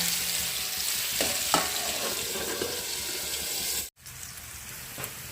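Tomatoes frying in a pan for a masala brinjal curry: a steady, close sizzle with a few scraping stirs, briefly cut to silence near the end before the frying resumes.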